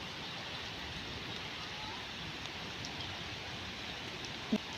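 Steady, dense patter of rain falling, a continuous broadband hiss with no pauses, fairly even in loudness throughout.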